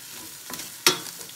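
Ground meat sizzling in a hot pan for Texas spaghetti, with a spoon scraping and stirring through it and one sharp clack against the pan, close and steady with no talk.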